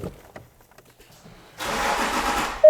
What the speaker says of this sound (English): So it cranks a little bit and it cuts.